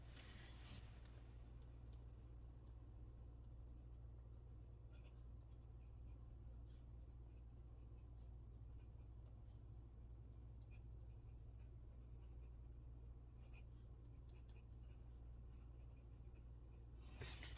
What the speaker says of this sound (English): So let me go ahead and also write in my book.